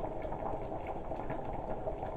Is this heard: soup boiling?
yes